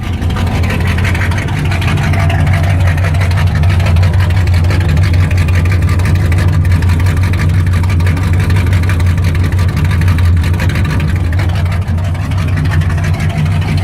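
A steady, deep engine idle from a 1971 Ford F100 rat rod pickup truck, rumbling continuously at close range, loud and unchanging throughout with no voices.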